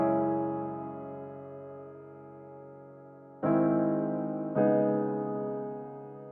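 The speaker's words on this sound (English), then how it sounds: "So for this sample, we only have just 3 chords playing here," Three sustained piano chords ring out in turn, the first held long and fading before two more are struck close together, each decaying slowly; reversed versions later form part of a beat.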